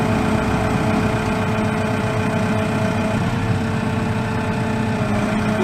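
A TYM T654 tractor engine runs steadily at a low, even pace, giving a continuous close mechanical drone with no change in rhythm and no talk.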